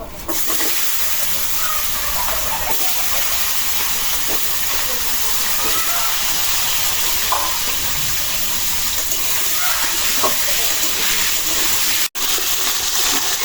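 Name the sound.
potatoes frying in oil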